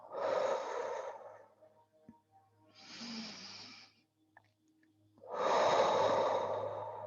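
Slow, deep breaths during guided yoga: three long airy exhalations and inhalations separated by pauses, close and fairly loud, with no talking.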